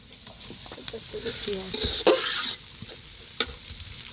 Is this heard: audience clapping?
no